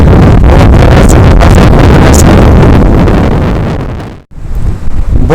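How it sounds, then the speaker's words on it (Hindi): Strong wind buffets the microphone on a mountain road between Chilas and Besham in northern Pakistan, a loud continuous roar and rumble that cuts out abruptly near the end, then gusts back in. "बहुत ही तेज हवा चल रही है, आप लोगों को अंदाजा हो रहा होगा। हवा का शोर भी आप लोगों को सुनाई दे रहा"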